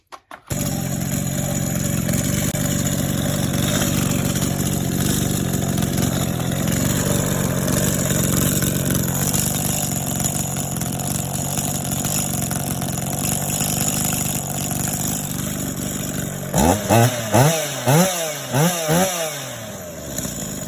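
A chainsaw with an aluminum handle and comfortable top grip runs steadily and loudly close by for most of the stretch, then revs up and down in several quick surges near the end.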